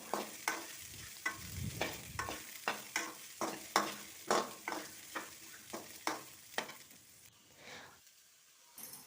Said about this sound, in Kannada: ಹಾಕಿ ಸ್ವಲ್ಪ ಅದೇ ಎಣ್ಣೆಯಲ್ಲೇ ನಾವು ಫ್ರೈ ಮಾಡ್ಕೊಳ್ಬೇಕಾಗ್ತದೆ.